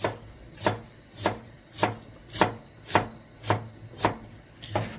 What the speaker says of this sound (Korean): 자 그리고 양배추 양배추를 최대한 가늘게